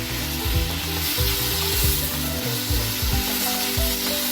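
Onions and tomatoes sizzle steadily in a pan while being stirred, with repeated scraping strokes of the stirring utensil breaking through the constant frying hiss, close and fairly loud, no voices.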